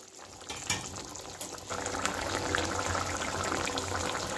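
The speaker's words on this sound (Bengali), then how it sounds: "এবার কিছুক্ষণ ফুটুক, মাছের মধ্যে ঝোল ফুটুক" Katla fish curry gravy bubbling in a pan, a steady soft simmer with faint popping that grows a little louder partway through, with no voices.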